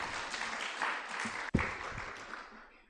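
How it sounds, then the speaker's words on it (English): A conference audience of doctors breaks into applause, a steady wash of hand clapping that holds for about three seconds, with a brief dip midway before it swells again and fades toward the end. "Another hand clap for Professor Ngonzi."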